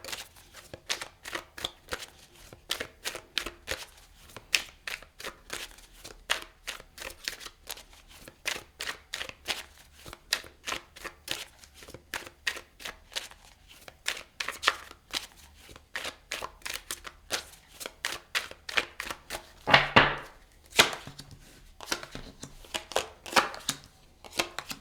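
Tarot cards shuffled and handled at close range, a long run of quick crisp riffling and slapping bursts with a sharper clatter of cards near the end, no voice over it.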